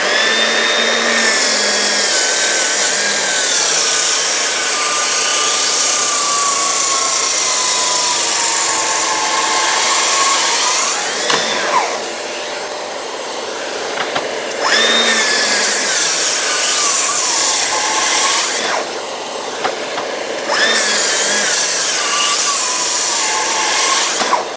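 Festool TSC 55 cordless track saw running on a 15-volt battery, making repeated cuts in wood with a dust extractor connected; loud, sustained whine with several brief pauses between cuts, no talking.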